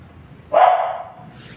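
A dog gives one sharp bark, close and loud, fading quickly into quiet background.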